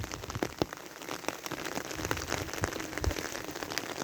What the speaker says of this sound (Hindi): बारिश थोड़ी सी तेज़ हुई है जी अभी